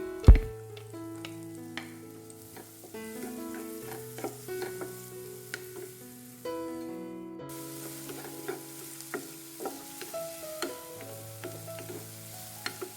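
Onion sautéing in butter in a pan, with a steady soft sizzle and repeated light clinks and scrapes of stirring throughout.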